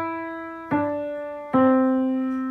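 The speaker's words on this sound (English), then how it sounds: "As you can see, I really connected those notes together." Three piano notes played legato, each ringing into the next with a smooth connected decay, clear and close with no talking.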